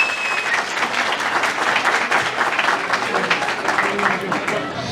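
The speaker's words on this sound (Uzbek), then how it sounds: "Amir Temurjon uchun qarsaklaringiz bilan" An audience applauding for Amir Temurjon at an Uzbek Language Day celebration in Hamburg, steady dense clapping filling the room throughout.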